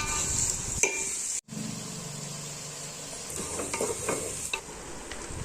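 Garlic and chopped onions sautéing in a pan for fish curry, stirred toward golden brown: a loud, continuous sizzle up close with repeated stirring strokes and one brief break, no talk.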